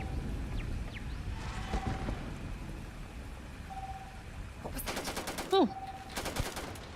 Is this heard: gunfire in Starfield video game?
yes